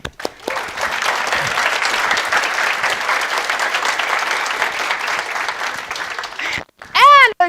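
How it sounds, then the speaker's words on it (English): An audience at an awards ceremony applauds the speakers of a two-day event with steady, dense clapping. The clapping breaks off abruptly near the end, and a brief voice and a high whistle-like sound follow. "And another big round of applause for all of our speakers"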